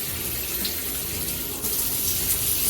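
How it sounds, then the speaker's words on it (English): A cruise ship's Celebrity Beyond veranda Aqua Class stateroom shower runs on its second setting, spraying rain-shower style out to the sides: a steady, close hiss of falling water with no voices. "This is the second setting and the water comes out like a rain shower but to the sides."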